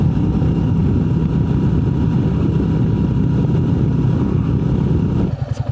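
A Royal Enfield Meteor 350 motorcycle rides steadily along smooth paved roads near Berlin, its low engine drone and wind rush holding constant and close before easing slightly at the very end.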